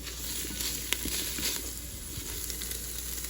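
Garlic sautéing in a Ninja Foodi pot gives off a soft, steady sizzle with light crackles and a few faint stirring clicks, even and close throughout with no talking.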